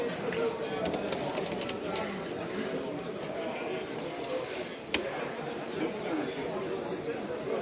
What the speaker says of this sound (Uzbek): Chiroyli kaptar ekan.